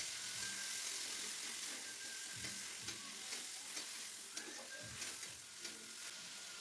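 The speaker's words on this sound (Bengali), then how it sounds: "কড়াইতে আবার একটু তেল দিয়ে ফোড়নে দেবো গোটা জিরে, গোটা গরম মশলা, তেজপাতা, শুকনো লঙ্কা দিয়ে পেঁয়াজ ও টমেটো বাটাটাকে দিয়ে ভালো করে কিছুক্ষণ কষিয়ে নিয়ে" Spices fry with onion and tomato paste in a wok, a continuous close sizzle punctuated by repeated light scraping and tapping of a spatula against the metal.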